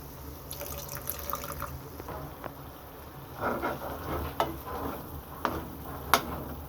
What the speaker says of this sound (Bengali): আমি লো ফ্লেমে রেখে মশলাটাকে ভালো করে ভেজে নেব